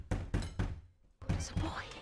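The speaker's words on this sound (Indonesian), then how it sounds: "tiba-tiba ada orang yang menggedor-gedor pintu mereka" Heavy pounding on a door in a zombie film, a run of three loud thuds, a brief pause, then more banging mixed with muffled voices and film sound.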